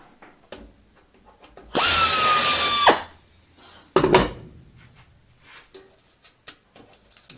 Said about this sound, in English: Touch up the center one just a tad with the drill bit.